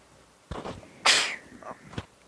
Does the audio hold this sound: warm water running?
no